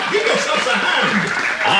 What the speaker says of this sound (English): Applause, applause, that's so good.